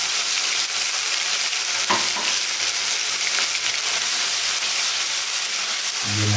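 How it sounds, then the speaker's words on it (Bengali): Spice paste fries hard in a pan for a bean kofta gravy, giving a loud, dense, unbroken sizzle close to the listener with a stir or two and a low thump at the very end; no one speaks. "দিয়ে মশলাটা ভালো করে ভেজে নেব"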